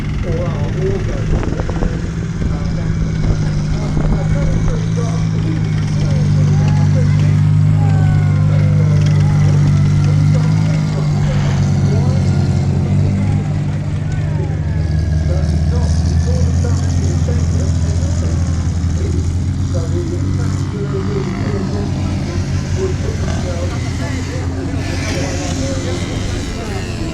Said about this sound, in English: So that's the United Nations vehicle which is used to control them in places like Cyprus or our war zones.